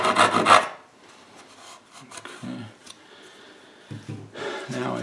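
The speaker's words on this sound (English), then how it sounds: "I'm going to cut down to that line on both sides" A hand saw cuts down to a marked line in wood during a toolbox build, giving short rasping strokes at the start and end with quieter scraping and breathing between.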